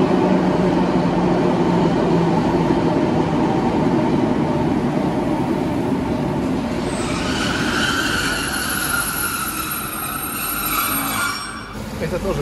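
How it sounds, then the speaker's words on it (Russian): Belgrade metro train passing with a steady broad rumble and rolling roar, high squeals and whines rising over it in the second half before it fades slightly. "Это поезд из так называемого белградского метро."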